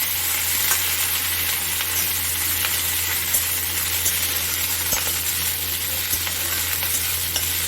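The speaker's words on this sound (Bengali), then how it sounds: "রসুনটা একটু লাল লাল করে ভাজা হয়ে গেলে এর মধ্যে দিয়ে দেবো কাঁচা লঙ্কাগুলো।" Green chillies hit frying garlic in a pan, giving a loud, steady sizzle with stirring scrapes and occasional light clinks of a utensil, close and continuous without voices.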